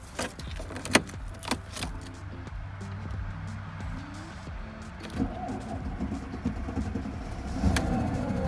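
A car with a dead battery cranks and then starts with help from a LIFMOCER GS400 jump starter. The engine rumbles low and steady, building in strength toward the end, with a few clicks and rattles nearby.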